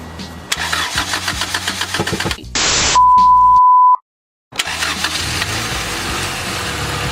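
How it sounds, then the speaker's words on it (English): A Honda GSR engine cranks and catches after a distributor O-ring replacement, its starter whir and firing up close and loud, with a short electronic beep and a brief pause before it settles into a steady idle. "Spark plugs are in, so let's see if it turns on."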